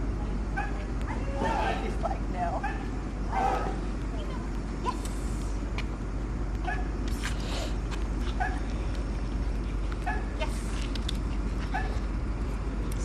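Two dogs whimper and let out short yips at intervals, fairly close, over a low steady hum, while a person talks intermittently.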